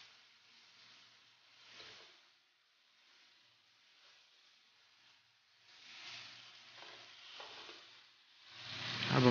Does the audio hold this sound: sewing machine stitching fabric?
no